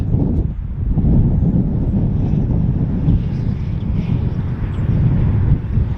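Strong gusty wind buffeting the microphone, a loud low rumble that swells and eases without letup.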